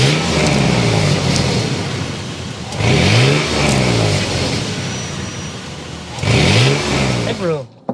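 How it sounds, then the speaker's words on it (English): A 2024 Toyota 4Runner Limited V6 engine revs up in several distinct bursts, each rising pitch sweep swelling loud then easing back to a steady idle, closing with a short sharp blip near the end. "start up this V6 so you can hear that exhaust note"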